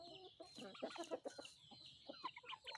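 Burmese-line native chickens cluck in a run of short, close calls with a busy, irregular rhythm, moderately loud and with no talking over them.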